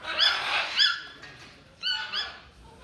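A red-billed toucan at Mysore Zoo gives shrill, nasal calls, two pairs of loud, close yelps separated by a short pause, with no talking.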